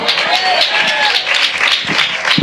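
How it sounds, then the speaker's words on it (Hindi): Congregation clapping during a Hindi-language Christian sermon, a dense, steady wash of applause with a voice faintly mixed in. "ताली तो ऐसे बजाते हो प्रचार बंद हो जाता है मेरा।"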